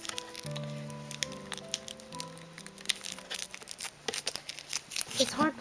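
Hard plastic packaging of a Yu-Gi-Oh! Legendary Dragons deck box is torn and crinkled open in a series of close, uneven rips and crackles, with a person talking throughout and a tonal jingle playing underneath at the start.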